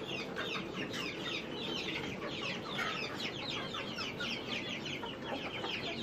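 Free-range village hens, young breeding stock, cluck and murmur continuously in a small backyard coop. The dense overlapping calls come from several birds close by, with no voices.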